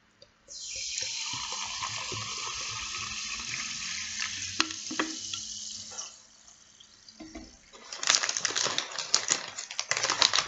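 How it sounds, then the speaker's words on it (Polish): Sparkling water poured into a glass, a steady close hiss of fizzing bubbles with a brief quieter dip, then crackling pops as the carbonation settles; no voices. "Zaczynamy od wlania wody gazowanej do naszej szklanki."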